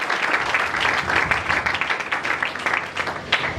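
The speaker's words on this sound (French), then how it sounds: "Acclamons pour le Seigneur." A church congregation breaks into sustained applause and clapping during a worship service, a dense, steady wash of hands lasting the whole stretch with a few louder individual claps near the end.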